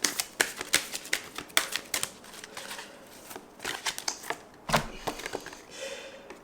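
Tarot cards shuffled and flipped by hand, a run of crisp riffling snaps and soft slaps, close and fairly quiet, with a brief pause midway before more shuffling and a card being laid down.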